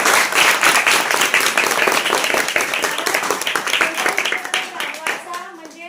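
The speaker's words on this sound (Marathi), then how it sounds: "तेव्हा जोरदार टाळ्या या मंडळासाठी" Loud, brisk clapping fills the hall at a school merit awards ceremony in a Marathi-medium village school, a rhythmic crowd applause that gradually thins toward the end.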